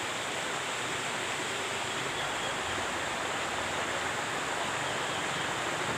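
Water rushes steadily near a rural barangay road in Jimenez, Misamis Occidental, a continuous broadband hiss of flowing water with no breaks and no voices.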